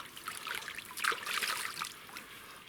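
Cold water from a forest stream trickles and splashes faintly in small bursts as someone washes their face, with no talking.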